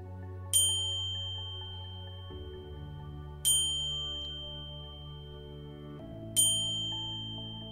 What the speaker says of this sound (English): You pick up the bell and ring it 3 times to further cleanse the air.